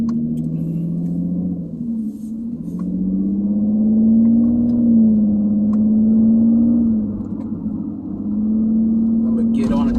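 A loud 2011 Nissan Maxima SV with a custom exhaust accelerating on the road, a deep droning engine note rising and dipping in pitch as it pulls, heard from inside the car and close throughout.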